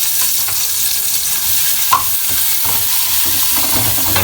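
Chopped onions frying in a pan for a budget chop suey, a steady loud sizzle with stirring scrapes and a brief clink near the middle, no talk.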